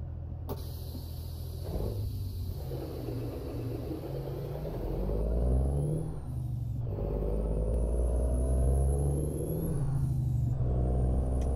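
A big rig with a Cummins N14 engine and an 18-speed transmission, no retarder, in American Truck Simulator. A deep diesel idle hums steadily, then the engine revs and the pitch climbs through the gears. A hiss of air release is heard early on.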